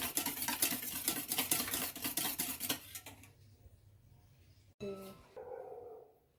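Egg and milk beaten together in a bowl for French toast, a quick rhythmic clatter of utensil against the dish for a few seconds, then stopping; a dog barks briefly near the end.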